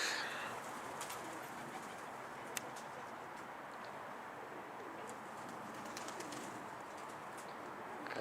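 Pigeons in a Turkish loft, among them the prized 'dolapçı' bird, cooing softly and steadily against a dense outdoor bed of chirps, with a few brief sharper calls and no talk.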